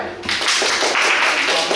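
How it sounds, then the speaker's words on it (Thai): A secondary-school class applauding a classmate after a project presentation, dense clapping from many hands in a room, close and steady for under two seconds. "เราจะปรบมือเพื่อนด้วย"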